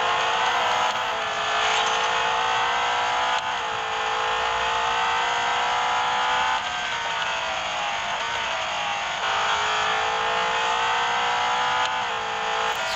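A race car in Real Racing 3 screams at full throttle, its high engine whine climbing through gear shifts, loud and continuous throughout.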